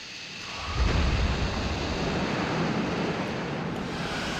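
A waterfall rushes in the Asheron's Call video game. A broad, hissing roar of water swells in after a quiet start and then holds loud and steady, with no one speaking.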